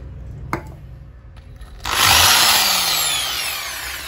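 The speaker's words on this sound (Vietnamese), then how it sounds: "Khi khoan mũi khoan vào tường đóng tất kê" A power drill bores into a wall to make a hole for a wall plug: a couple of light knocks, then the motor whirs up into a loud, sustained grinding whine that slowly eases.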